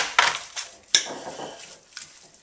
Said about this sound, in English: let's go ahead and just grind up these caraway seeds